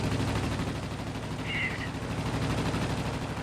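Rapid machine gun fire from the eight guns of a Bristol Type 146 fighter in World of Warplanes, a dense steady rattle running throughout alongside engine drone, with a voice speaking over it.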